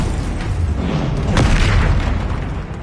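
Confringo fire spell blast in Hogwarts Legacy during a troll fight: a loud, rumbling boom swells and peaks mid-clip, bursting and then rolling off over continuous low-end roar.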